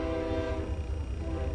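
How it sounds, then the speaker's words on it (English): A train rumbles past close by on the railroad at Victorville, California, with a sustained horn tone blaring over the heavy rolling noise. "And there it goes right by, the train."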